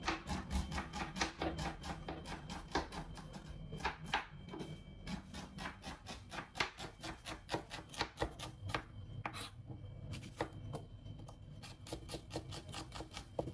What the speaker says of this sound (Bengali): আমি এখন পেঁয়াজ মরিচগুলো কেটে নিব করলা ভাজি করার জন্য।